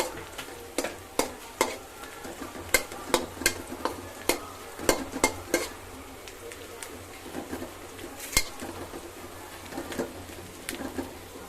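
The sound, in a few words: stirring spices frying in pot for mung dal pulao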